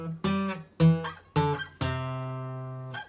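Beginner guitar riff, part one of two riff lessons: four clean plucked notes in a slow rhythm, the last held and ringing out before a faint fifth pluck, close and alone.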